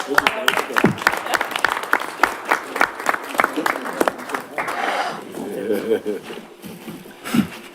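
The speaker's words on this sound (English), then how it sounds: "Can we give them a round of applause?" Audience applause at a Reparations Commission meeting, a burst of scattered clapping from a room of people that rises, swells and fades over several seconds, with some voices mixed in.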